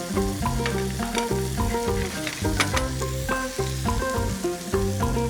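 Pad see ew noodles with mussels and clams are stir-fried in a hot pan, giving a dense, loud sizzle with rhythmic scraping and clattering of tossing throughout, close up and without talk.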